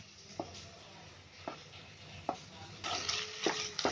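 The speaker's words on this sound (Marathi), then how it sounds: "आता चांगला हलवत राहायचं, म्हणजे ते कसं मग मोकळा होतो" Sweet corn upma being stirred in a pan, with quiet scraping strokes every second or so that grow busier toward the end over a soft low cooking background, no talking.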